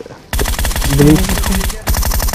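Rapid gunfire in a video game while shooting an enemy in the head, two dense bursts of loud automatic shots with a brief gap, no talk heard.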